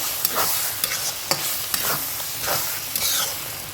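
Taro leaves stirred and fried in a pan for a vegetarian Bengali dish, a steady close sizzle broken by repeated scraping strokes of the spoon, with no talking.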